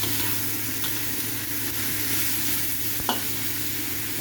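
Beef ribs frying in oil in a pan as pinapaitan is started, with a steady broadband sizzle and a brief clink of a utensil near the end, no talking.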